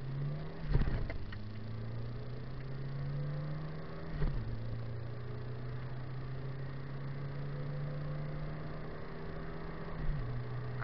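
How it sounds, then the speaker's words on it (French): A car engine drones as the driver presses the gas, steady engine tone climbing through gear changes with brief bursts at each shift, no talking. "Allez, je mets les gaz."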